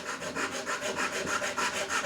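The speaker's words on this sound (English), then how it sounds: "this is actually a pull saw" A pull saw cuts freehand through wood during a vintage Gibson Les Paul Custom restoration, giving quick rhythmic rasping strokes, about eight in two seconds, close and moderately loud with no talking.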